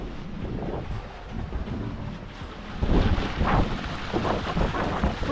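An electric catamaran cruiser running at full throttle on open water, its hull slapping and hissing through waves under steady wind buffeting, with louder surges of water rushing past in the second half and no talking.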